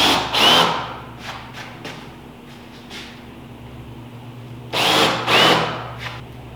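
A power drill pre-drilling wood for 1.5 inch screws while building a rolling workbench: two pairs of short, loud, whining bursts at the start and near the end, separated by quiet room tone.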